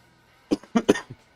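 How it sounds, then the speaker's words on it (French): A few sharp coughs from one person, close and clear, in a quick cluster of three or four bursts with a softer one trailing after, otherwise quiet. "Moi, je tousse encore"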